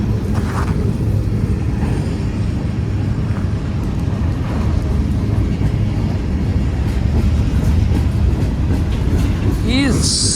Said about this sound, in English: Still sitting waiting for a slow train.